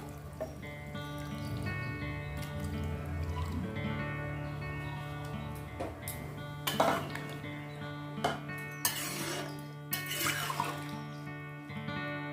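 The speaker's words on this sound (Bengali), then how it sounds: "দেখো এই জলটা আমি এর মধ্যে দিয়ে দেবো, এটা গরম করে রাখা জলটা।" Hot water is poured into a pan of chicken keema ghugni with peas, giving quiet, brief splashing gushes mixed with faint metal clinks from the pan, with no talking.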